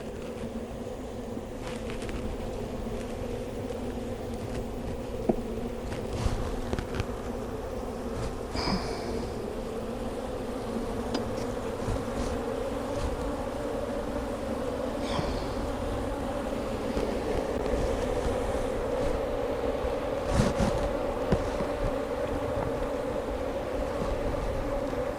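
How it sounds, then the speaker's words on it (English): A dense, steady drone of many honey bees buzzing close by, a continuous hum with occasional louder passes of individual bees. "A lot of these bees came rushing out"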